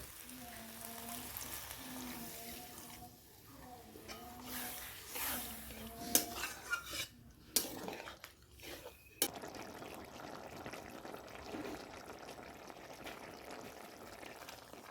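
Water poured into a pan of cooking okra and potato curry sets off a loud, hissing sizzle that settles into steady bubbling. A voice talks over the first half, and there are a few clinks of utensils.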